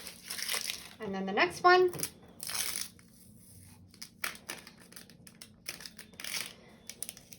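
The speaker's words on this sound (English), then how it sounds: "And just pull that tape away." Adhesive tape peeled slowly off a printed photo while making a homemade Christmas candle, giving soft crinkling and tearing sounds in short bursts, with a person speaking briefly nearby.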